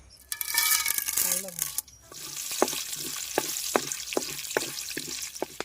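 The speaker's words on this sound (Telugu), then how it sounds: "తాలింపు దినుసులు వేసుకుందాం" Tempering spices, including cumin and dried red chillies, drop into hot oil and sizzle, followed by a steady hiss punctuated by sharp, regular clinks of a spoon against the pan.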